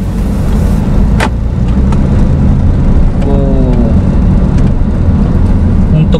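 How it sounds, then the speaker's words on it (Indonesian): From inside a 2018 Honda Mobilio RS, the engine drones loud and steady with a dense low rumble as the car is given a little throttle, plus faint cabin rattles. "Kita coba gas sedikit."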